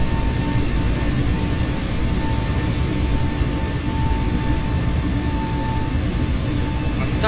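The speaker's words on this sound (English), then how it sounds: "you can probably hear the engines dropping off" Airbus A320 jet engines spool down in flight in Microsoft Flight Simulator 2024, a steady, loud broadband roar with a faint high tone that holds throughout without distinct changes.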